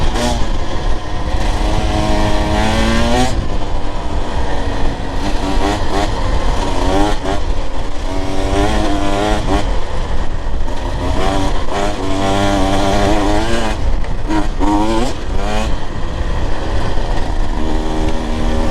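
A Husqvarna TE 150 TBI two-stroke dirt bike engine is heard while riding, loud and close, revving up and down through the gears with repeated rising and falling pitch sweeps.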